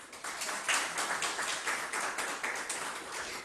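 An audience at a government ceremony for flood victims' new houses gives a short burst of brisk clapping, close and fairly loud, with no talk over it.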